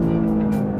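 Synthesized engine note from a Lexus LBX Morizo RR hot hatch, piped through the cabin speakers rather than the exhaust: a steady, loud, humming drone heard from inside the car, with no talk.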